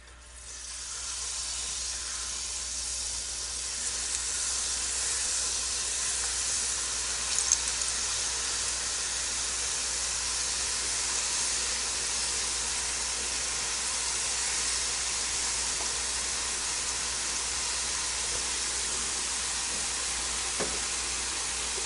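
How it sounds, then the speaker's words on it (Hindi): Jalebi batter fries in a pan of hot oil, giving a loud, continuous sizzling hiss that builds in the first seconds and then holds steady with no voices. "उसके बाद नेक्स्ट जो बैच है वो फ्राई कर लेंगे।"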